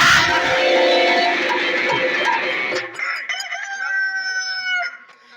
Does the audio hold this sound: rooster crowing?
yes